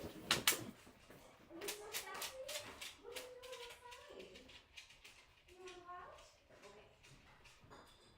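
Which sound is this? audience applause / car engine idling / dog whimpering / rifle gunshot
dog whimpering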